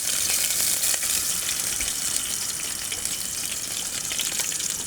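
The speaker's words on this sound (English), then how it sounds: "The duck fat is now sizzling" Duck fat sizzles with minced garlic in a pan, a steady, close hiss and crackle that holds at an even level with no talking.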